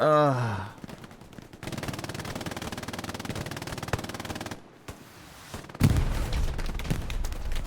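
Dense, rapid machine-gun fire rattles almost continuously in Hell Let Loose, an 18-versus-18 online World War II shooter match, with brief gaps and a heavier burst of louder shots near the end.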